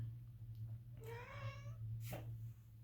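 A single drawn-out cat meow, rising and wavering, fairly close over a steady low hum, followed by a short sharp huff.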